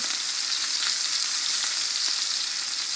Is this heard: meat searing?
yes